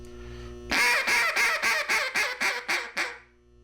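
A duck call blown high-pitched to mimic a young hen, a run of about nine quick, evenly spaced raspy quacks that trail off, loud and close with no talking.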